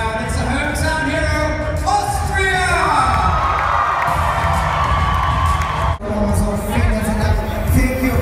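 Loud, sustained cheering and whooping from a large crowd welcoming a hometown hero at a Miss Earth 2015 event in Vienna, continuous throughout with a brief dip near the end.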